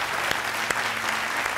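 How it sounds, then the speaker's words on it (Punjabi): A crowd of listeners gives a round of applause at a community talk about a village woman who became an ambulance driver. The clapping is even and moderately loud, with a few sharper individual claps standing out. "ਇਹੋ ਜਿਹੇ ਭਰਾ ਲਈ ਜ਼ੋਰਦਾਰ ਤਾਲੀਆਂ ਇੱਕ ਵਾਰ"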